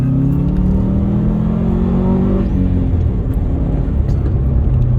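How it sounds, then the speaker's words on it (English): Subaru Forester XT pulls hard in second gear from inside the cabin, its engine note climbing steadily over the first couple of seconds before settling into a loud, rumbling whir of road and engine noise. "I will do a bit more of a floor it in second gear"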